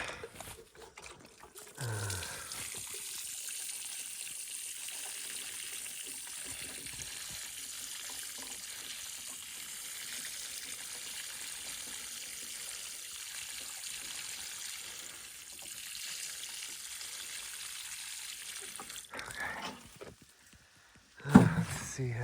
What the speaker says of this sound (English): So now just to water the thing.